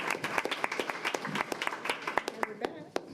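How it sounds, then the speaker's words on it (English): A round of applause at a school board meeting, with individual hand claps standing out crisply over a steady patter for about three seconds, fairly close and moderately loud. "A round of applause."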